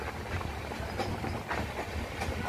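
The Kanchankanya Express passenger train rolls steadily along the rails near Siliguri with a continuous rumbling roar and faint rhythmic clatter, close and fairly loud throughout.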